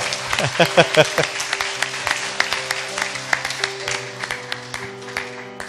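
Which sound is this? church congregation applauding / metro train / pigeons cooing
church congregation applauding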